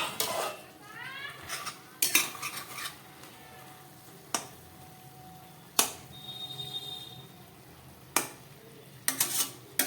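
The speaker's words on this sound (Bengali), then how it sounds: "এবার ঢাকাটা খুলে দেখবো লাউ শাক কতটা সিদ্ধ হয়েছে।" A pot of cooking bottle gourd greens gets several sharp metallic clinks and clatters as the lid comes off and utensils knock against the pot, with quiet gaps in between.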